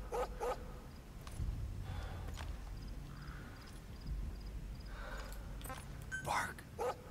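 A dog barks in the video game Metal Gear Solid 5, giving a few short barks over a steady game ambience with no talk.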